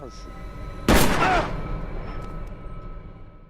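A single sharp gunshot rings out in a film scene, a loud broadband burst lasting about half a second before fading into a low rumbling ambience.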